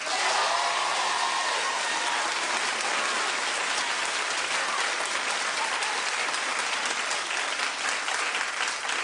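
Loud, sustained applause from a large television talk show studio audience, dense and even throughout, with no voices standing out.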